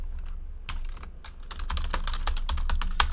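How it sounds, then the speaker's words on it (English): Steady run of computer keyboard typing, close and fairly loud, with irregular clustered key clicks continuing for several seconds while trading card hits are entered; no voices. "Let's type in all the hits."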